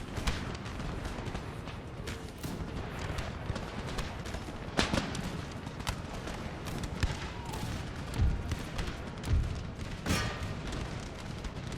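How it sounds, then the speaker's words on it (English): Line infantry firing muskets by rank in the battle game Empire: Total War: a steady run of overlapping gunshot cracks and distant booms, with deeper thuds near the end, over continuous battlefield noise. "Really use fire by rank, seeing it's just the first row firing right now."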